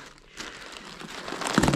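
Paper packing material crinkles and rustles as a parcel is unwrapped, close and fairly quiet, with a louder burst of crumpling toward the end.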